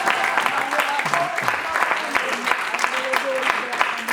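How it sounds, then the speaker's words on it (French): A church congregation applauds steadily during a sermon, a dense, even wash of clapping held for several seconds with voices mixed in. "Acclame pour Jésus."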